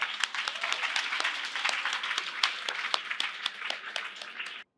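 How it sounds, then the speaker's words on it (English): A crowd applauds steadily for several seconds, dense clapping at an even level, then it cuts off abruptly. "give you a round of applause for all our team"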